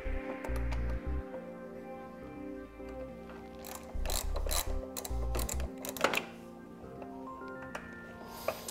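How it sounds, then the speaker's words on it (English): A small right angle driver with a torx bit loosening a screw on the grille light of a 2010 Mini Cooper, with faint repeated ratcheting clicks and short mechanical whirs close by, no talk. "Now the screw in here requires a torque bit. I'm using just a little right angle driver to do it with."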